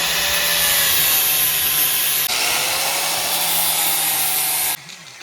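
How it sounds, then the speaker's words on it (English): A grinder wears down the faces of steel locker bracket tabs for a TRE electric locker on an 2002 F150, a loud, steady, close whine that runs continuously, jumps slightly in tone midway, then stops abruptly. "So you got to grind the face of them down"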